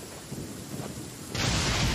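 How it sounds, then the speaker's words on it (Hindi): Thunder rumbles in Genshin Impact over a steady wash of rain, with a low roll that swells into a louder, broader crack near the end. "बिजली कड़क रहा है"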